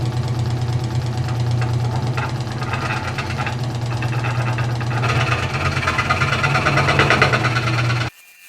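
A WEN 3922 scroll saw cuts slowly through a workpiece on a cheap plastic table, giving a steady, loud mechanical buzz with rapid rhythmic chattering and vibration that continues unbroken for about eight seconds, then cuts off abruptly.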